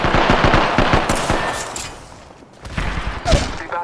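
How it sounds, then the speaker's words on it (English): Rapid bursts of automatic gunfire in the battle game Apex Legends, loud and close, with a brief lull and then another volley of shots. "I am taking fire"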